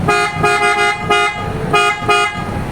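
A deep, full PIAA bass horn on a Ford Ranger honks loudly several times in short bursts, close by, with brief pauses between blasts.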